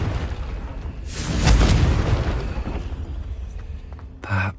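A Confringo fire spell bursts with a loud, deep boom in the game Hogwarts Legacy, its rumbling blast swelling and then fading, with a short sharp crack near the end.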